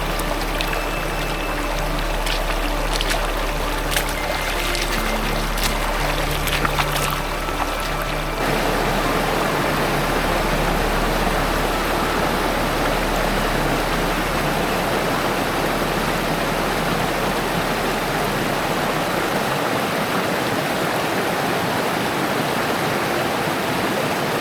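A river in a mountain valley rushes as a steady, loud broadband wash, with a faint musical or tonal layer over the first few seconds before the water continues alone.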